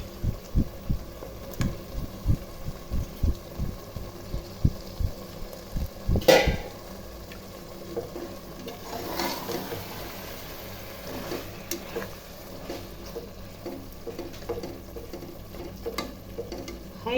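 Chicken pieces fry in a pan with softened, sautéed tomatoes for biryani, a soft steady sizzle under scattered stirring knocks and scrapes, with a louder clatter partway through.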